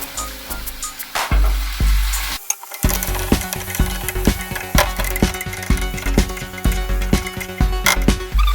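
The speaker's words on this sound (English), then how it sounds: "I think, yeah, I'm gonna add the tomatoes now." Tomatoes go into a pan of frying garlic and curry masala for poondu kara kozhambu. A loud clatter as they drop in is followed by steady sizzling, with the utensil knocking and scraping in a repeating rhythm.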